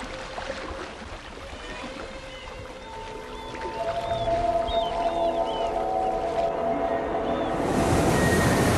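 Whale calls, pitched around 500 Hz, rise and fall in a series of tonal, sweeping moans and chirps over a constant wash of ocean noise, moderately loud and with no voices.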